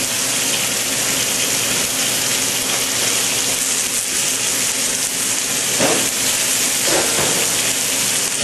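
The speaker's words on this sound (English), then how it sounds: "I bet the venison fillets probably have a nice sear." Venison fillets searing in a hot pan give a steady, broadband sizzle and hiss that stays close and even throughout, with a couple of brief louder crackles near the end.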